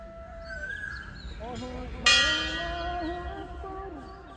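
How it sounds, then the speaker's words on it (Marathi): Temple bells clang loudly at dawn in a waking town, blending with a melodic call to prayer. The bell strikes sharply midway and rings out over the sustained chanting. "तोच हळुवार कानावर पडतो आजान आणि घंटानाद यांचा एकत्र सूर"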